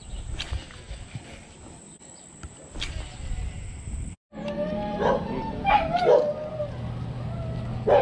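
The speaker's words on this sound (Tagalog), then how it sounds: "Ingay ng aso dun." Dogs barking in the distance near a lagoon with kangkong cover, with scattered short yips over a faint insect hum and soft outdoor noise, after a brief silent gap.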